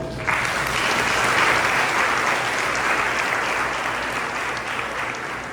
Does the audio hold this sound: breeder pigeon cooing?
no